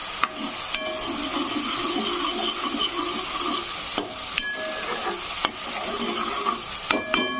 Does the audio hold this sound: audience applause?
no